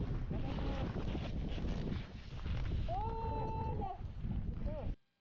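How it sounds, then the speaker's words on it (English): Strong gusts buffet the microphone on a mountain summit ridge in Nepal, a loud, continuous roar with rising whistling tones and brief voices underneath before it cuts off. "It sounds very windy"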